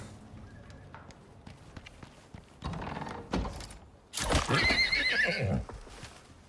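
Horses in the survival video game Icarus shuffle with soft clip-clopping hooves and thuds, then one lets out a loud, drawn-out whinny near the end, close and clear.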